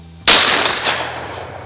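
A single shotgun blast fired at a thrown clay target outdoors, a sharp close crack followed by a long rolling decay, with no talk.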